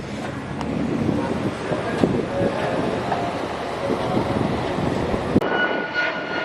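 An airplane flies low over a neighborhood near the Miami airport, making a steady, broad engine roar with wind buffeting the microphone throughout.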